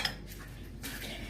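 A plate is picked up and set down on a kitchen counter while a meat salad is being prepared, giving a short ceramic clatter and clink near the start, then quiet handling noise.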